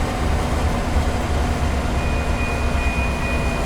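A steady, loud rumble of a train running and braking from about 80 mph in Train Sim World 2020 on the Peninsula Corridor, with a constant low drone and a thin whine, and no talking.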